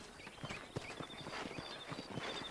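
Horse hooves clip-clopping in Red Dead Redemption, a faint, quiet run of soft, uneven thuds over a steady background hiss.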